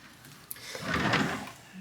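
Cabin drawer on the Carnival Spirit cruise ship sliding open, a brief rumbling slide with a small knock, close and fairly loud, with no talking.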